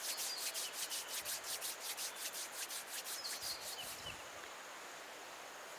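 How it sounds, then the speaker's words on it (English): Palms of the hands rubbing gently against each other during a meditation, a close, soft, rhythmic swishing of quick repeated strokes that stops near the end, leaving quiet. "Bring them together in Namaste and then rub the palms of the hands gently"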